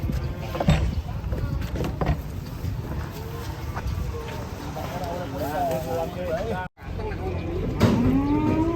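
Large cattle being loaded onto a truck moo in long, wavering calls over a busy outdoor crowd, with people talking and chickens clucking nearby.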